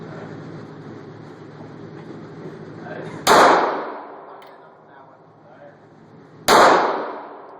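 Two sharp, loud Smith & Wesson M&P 40 pistol shots ring out at an outdoor gun range, spaced about three seconds apart, each with a decaying echo, over a low hum of background voices.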